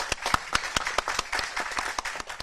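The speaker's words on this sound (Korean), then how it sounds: "우리 권성동 대표님께 우리 모두 박수 한번 좀 쳐드려주셨으면 좋겠습니다." A studio audience gives sustained applause for Kweon Seong-dong, floor leader of the ruling party, during a television news programme. It comes as a steady run of close, distinct handclaps of even loudness, and no voices are heard.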